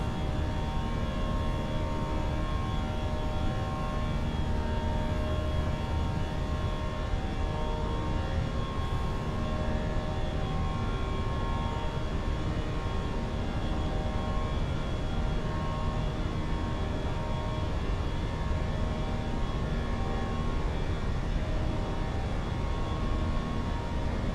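The engines of a Fenix Airbus A320 at climb thrust in MSFS 2024, a steady loud jet roar with a constant whine, unbroken and with no talking.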